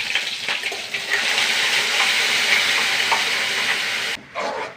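Mustard seeds, a dried red chili and curry leaves frying in hot coconut oil for a chutney tempering, a loud continuous crackling sizzle up close that cuts off sharply near the end.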